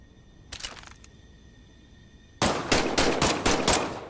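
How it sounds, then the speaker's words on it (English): Machine-gun weapon test-fired in the VR game Medal of Honor: Above and Beyond: a short, quick burst early on, then after a pause a louder sustained rapid-fire volley of sharp cracks. "why don't you test fire your weapon?"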